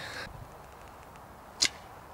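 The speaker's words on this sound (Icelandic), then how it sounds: "Þetta banvænar örvar með járnoddi." An iron-tipped arrow shot in archery gives a single sharp, brief whoosh or strike, fairly close, after a quiet stretch with faint background noise.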